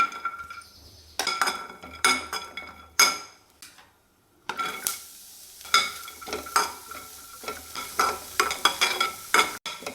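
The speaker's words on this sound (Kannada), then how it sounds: "ಈರುಳ್ಳಿ, ಬೆಳ್ಳುಳ್ಳಿ ಇದನ್ನು ಸಹ ಹುರಿಬೇಕು" Onion and garlic dry roasting in a pan with no oil, heard as a busy run of stirring scrapes, clinks of utensil on metal and light crackle, close and fairly loud, with one brief quiet pause.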